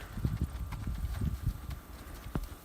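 Horse hooves loping on the right lead, a quick rhythmic clip-clop of footfalls landing in repeating three-beat groups on soft ground at moderate distance.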